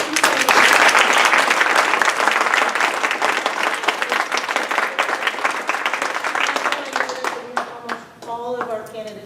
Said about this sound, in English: let's please give a big round of applause to our candidates